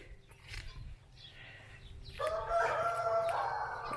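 A rooster at a small farm zoo near Szczecin, Poland crows loudly and fairly close, a long harsh call in the second half, with other birds and background noise before it.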